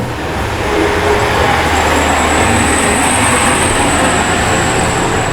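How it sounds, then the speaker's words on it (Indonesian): A truck roars past fast on a road near Bromo, a loud, steady, close rumble with a high whine that swells and holds over several seconds. "truknya kencang banget"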